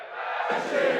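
A cartoon crowd of thousands of Supa Strikas fans gathered outside Strikerland cheers and roars for El Matador. The sound is a brief, swelling burst of massed voices.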